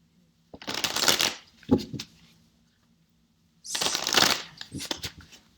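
Tarot cards being shuffled in two bursts of rapid riffling and papery flutter, the second longer than the first, close and fairly loud with a short quiet gap between.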